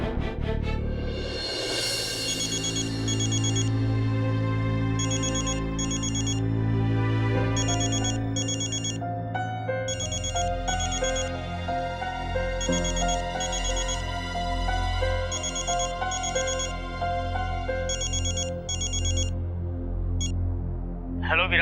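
A phone ringtone plays on and on without being answered, a repeating electronic melody in regular bursts with short gaps, loud and close for about twenty seconds.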